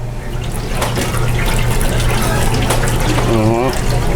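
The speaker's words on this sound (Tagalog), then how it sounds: "Konting tubig lang po ilalagay natin." Water runs steadily into a cooking pot of pompano fish, a continuous splashing pour with a low hum underneath and a brief voice near the end.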